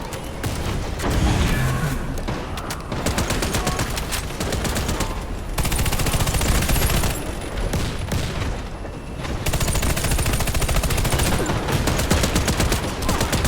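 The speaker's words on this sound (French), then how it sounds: "Tir de suppression!" Sustained machine gun suppressing fire in the shooter game Warface, with dense rapid bursts of shots rattling almost nonstop. A few short lulls break the loud barrage.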